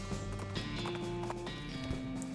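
Horse hooves clip-clop as a rider arrives at a bandit hideout in the western comedy game West of Loathing, a steady, soft, mid-distance trot over a low background music bed.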